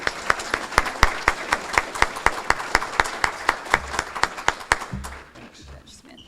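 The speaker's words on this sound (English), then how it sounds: "Give a round of applause" A Kiwanis club audience welcomes a judge with rhythmic clapping, a steady even beat of loud claps that thins out and fades near the end as a voice begins.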